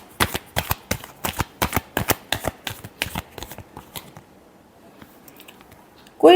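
Tarot cards being shuffled by hand up close, a steady run of about a dozen crisp riffling slaps that grow softer and fade out partway through, followed by near quiet.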